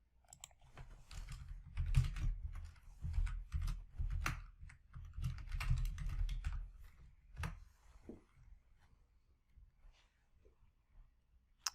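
Computer keyboard typing during data-entry software work, a burst of quick, irregular keystrokes that loudens for several seconds and then trails off into sparse single taps, heard close and alone with no talk.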